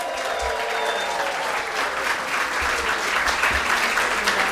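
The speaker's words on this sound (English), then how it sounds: "let's cheer for those people watching at home" A gala audience cheers and applauds in a steady, dense wash of clapping that holds loud and even throughout, with scattered voices mixed into the crowd noise.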